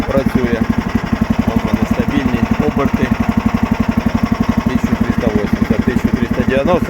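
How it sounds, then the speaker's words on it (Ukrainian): A petrol engine on a Toytraktor mini loader runs at a steady idle around 1500 rpm, loud and close, with an even rapid pulsing throb that holds for several seconds. "1500 це нормальні легкі оберти. Газку даємо."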